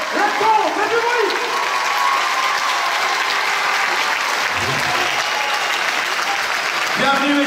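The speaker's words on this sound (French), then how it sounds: "Nous allons les accueillir ici sous un tonnerre d'applaudissements" A packed audience at a film premiere in Le Grand Rex cinema bursts into loud, sustained applause that fills the hall, with faint voices and cheers mixed in.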